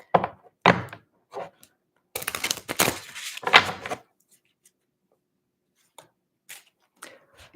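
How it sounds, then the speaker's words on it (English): Guild Tarot cards are shuffled and handled in a few quick papery bursts and thumps close by, with short quiet gaps between them. "So Philo, let me shuffle through this. I'm going to go back to the Guild Tarot."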